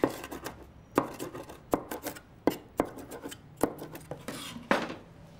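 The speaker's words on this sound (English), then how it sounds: "Now I'm going to lean on the garlic my considerable body weight." Garlic cloves crushed under heavy pressure on a kitchen board give a series of sharp, close cracks and thuds at irregular intervals of about half a second to a second.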